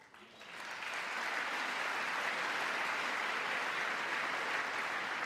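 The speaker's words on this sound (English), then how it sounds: "Why does that merit a clap?" A large audience breaks into applause during a political speech, the clapping swelling within the first second into dense, sustained applause that carries on evenly to the end.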